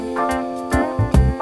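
Music processed by the Audio Thing vinyl plugin at 8-bit reduction, with cymbal hits turned fuzzy and grainy over a steady tonal bed and a few low thumps, close and moderately loud.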